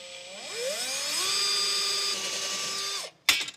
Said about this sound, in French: c'est une tête à fraiser. Ce qui va permettre, quand tu vas percer le bois, de laisser une empreinte